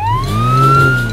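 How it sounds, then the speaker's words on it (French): Police car siren in a French children's cartoon about trains, a single loud rising electronic wail held steadily over a low engine rumble, no voices. "Regardez, les enfants, ceci est une voiture de police."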